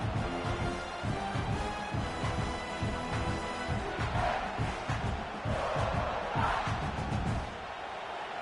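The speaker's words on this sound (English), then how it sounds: "this crowd trying to help keep them there" Stadium crowd roaring continuously through a video game college football broadcast, a dense loud wall of cheering and yelling with rising surges of noise, no commentary over it.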